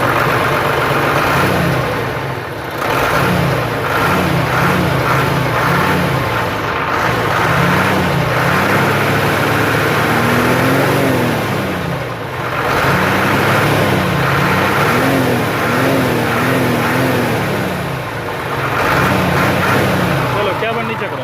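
A Hino truck's Euro diesel engine running after being started, with rising and falling revs over a steady mechanical rumble, loud and close, while someone talks over it throughout.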